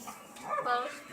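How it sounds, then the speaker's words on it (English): A hyperactive dog gives short yips and whimpers up close, one quick excited burst that swells and fades, with a person's voice mixed in. "The dog was pulling me, Jamie."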